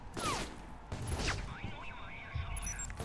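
Gunfire in the video game Alpha Protocol: a few loud bursts of shots and thuds mixed with game effects, while someone talks over part of it.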